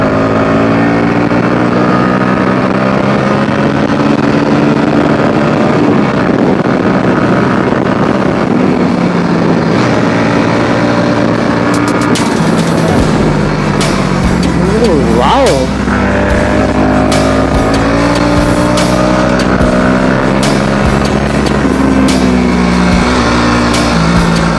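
Bajaj Dominar and RN5 motorcycles race past with a sustained engine drone and rising and falling revs, loud throughout, with wind noise and a voice talking over it.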